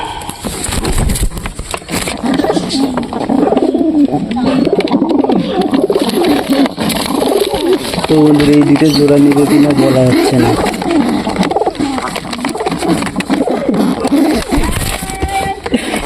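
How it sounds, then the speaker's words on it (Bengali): Lakka pigeons coo in a loft, soft repeated throaty calls close by, mixed with wing and handling noise while someone talks over them most of the time. "দেখতে পাচ্ছ এখন আমি এই পায়রিটা ধরবো"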